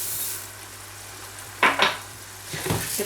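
Rice is stirred and sautéed in a pan for octopus in ink, a soft sizzle running under a few sharp scrapes and clinks of the utensil against the pan, close by with no talk.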